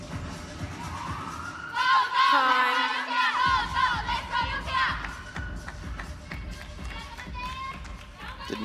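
Crowd roaring and cheering at a WTT Champions men's singles table tennis match in Incheon, a loud swell of voices that builds and then settles into a busy murmur of spectators.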